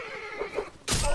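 A horse neighs briefly in the battlefield action of Mount and Blade: Napoleonic Wars, and a burst of loud combat noise follows close behind.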